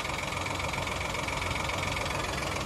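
A naturally aspirated engine in a base-model 2024 Citroen Basalt coupe SUV idles with noticeable vibration, giving a steady, close, unbroken drone with a faint rhythmic knock.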